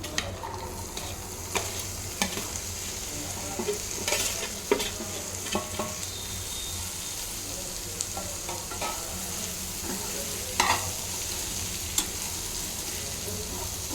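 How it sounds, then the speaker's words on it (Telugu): Black-eyed peas frying in oil with a soft, steady sizzle, while a spoon stirs them with occasional scraping clinks against the pan, close and fairly quiet throughout. "ఇప్పుడు ఇందులోనే అలసందలు వేస్తున్నాను"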